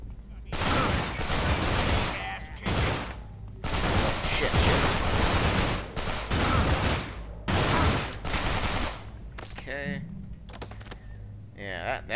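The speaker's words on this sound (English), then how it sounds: "let's shoot this lock off" Gunfire in Manhunt 2 while shooting a lock off: loud, dense bursts of shots in several long blocks separated by short pauses, with a few clanks and scraping sounds near the end and voices also present.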